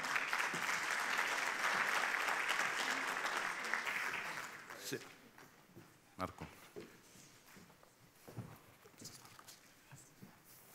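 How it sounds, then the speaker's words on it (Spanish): Audience applause welcoming panelists at a development-banking forum, loud and dense for about four seconds before thinning into scattered claps, footsteps and shuffling in the hall. "A todos ellos, por favor, los recibimos con un cálido aplauso."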